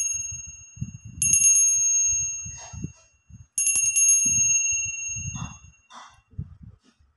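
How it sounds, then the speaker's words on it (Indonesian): A bell rings to mark the start of a card reading: two bright, sustained metallic rings a couple of seconds apart, each lingering, over soft low thumps and handling noise. "kita akan melanjutkan dengan tanda dimulai dengan lonceng berbunyi."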